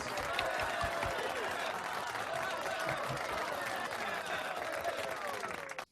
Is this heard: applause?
yes